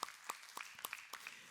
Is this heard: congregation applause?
yes